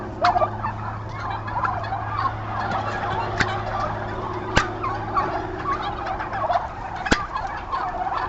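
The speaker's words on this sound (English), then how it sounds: "You hear the turkeys talking too? I hear them." Turkeys gobbling in a continuous chattering chorus, with a few sharper calls standing out over a low steady background hum.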